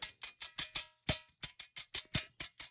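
A brush plays a quick, uneven rhythm of soft, papery taps on a mesh drum practice head. The sound is close and dry, with a short pause partway through and no voices.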